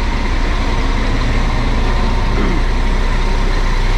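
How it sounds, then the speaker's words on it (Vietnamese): A VIP sleeper bus sits with its engine running near a bus station, a loud, steady low diesel rumble heard up close from the rear of the vehicle. "mình đang nổ máy cho nên cái tiếng máy nó hơi ồn tí xíu nha"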